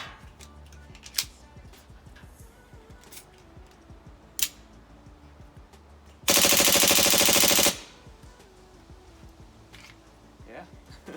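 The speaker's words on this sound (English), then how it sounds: "I'm going to do a full magazine on full auto." An HPA-powered airsoft M9 pistol empties a full magazine on full auto in one dense, rapid burst of about a second and a half, sharp and close, with a few single clicks and handling noise before and after it.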